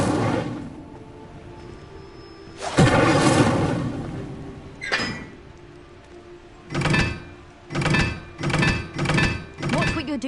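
In Hogwarts Legacy, Incendio fire spells go off in loud whooshing bursts: one big blast, then a quick series of four or five fiery thumps. Voices speak between the casts.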